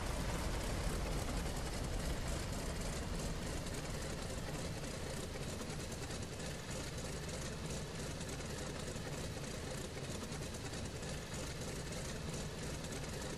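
An aircraft engine in the IL-2 1946 flight game drones steadily and loudly, with a dense, constant roar and no pauses across the whole stretch.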